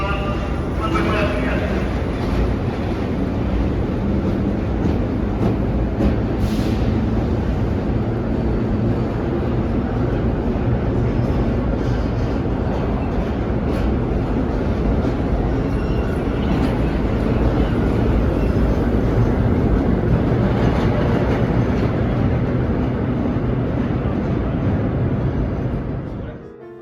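An old NYC subway holiday nostalgia train rolls past for a long stretch, a loud and steady rumbling roar that fades out at the end.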